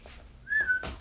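A person whistles a short, thin note that slides slightly in pitch, brief and fairly close, against a quiet room.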